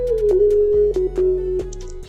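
A sine-wave synth lead treated with chorus and reverb plays a loud gliding melody of several notes, with lingering wash between them, over a low sustained bass in a melodic plugg R&B beat.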